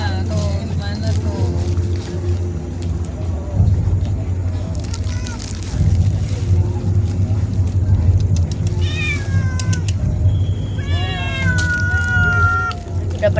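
A cat meows several times, drawn-out rising and falling cries near the end, over a constant low engine-like hum and background chatter of people talking.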